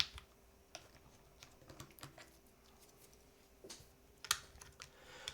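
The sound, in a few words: typing on a keyboard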